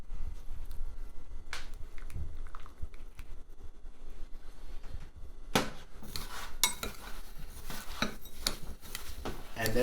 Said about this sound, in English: I'm just going to mix the butter in with the breadcrumbs here.